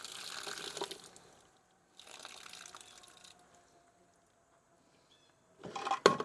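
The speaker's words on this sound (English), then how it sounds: "the first thing I'll do is pour this water off these chestnuts" Hot water poured off cooked chestnuts, a close, soft splashing gush in three separate pours with quiet gaps between, the last burst louder and ending in a few drips.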